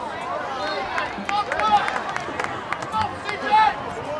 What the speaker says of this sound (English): As you hear the crowd cheering for C.J. Long.